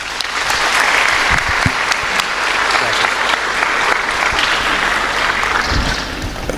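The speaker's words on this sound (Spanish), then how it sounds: "un aplauso para el hermano" Church congregation breaking into loud, sustained applause, a dense wash of many hands clapping close by that continues steadily throughout before easing slightly at the end.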